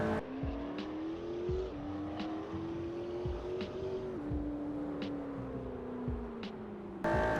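A McLaren 720S supercar engine holds a steady droning tone while driving, pitch shifting slightly between gears, with sharp thumps and a louder surge near the end.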